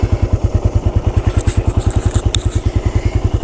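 A 2013 Suzuki Satria F motorcycle engine runs at idle close up, putting out a fast, even, loud thumping pulse that stays regular and smooth from start to finish, with no voices.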